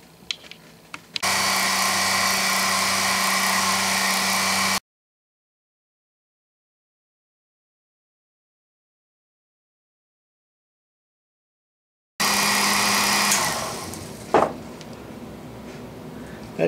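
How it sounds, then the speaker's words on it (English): A sharp drill whines as it bores a through hole in gray iron, a steady grinding buzz in two bursts separated by a long stretch of silence. "That gray iron sure does drill nice, and that was a sharp drill"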